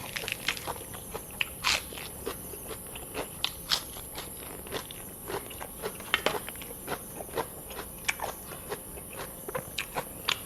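Crisp, dry food being bitten and chewed close up, sharp crunches recurring at an irregular rhythm over quiet background, with no talking.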